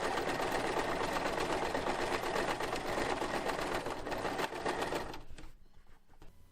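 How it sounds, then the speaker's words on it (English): A sewing machine stitches a folded fabric hem on a pocket opening, a steady, fast, close mechanical whir that runs continuously and then stops abruptly near the end. "I'm finishing the hem of the opening of the pocket by folding it and sewing the fold."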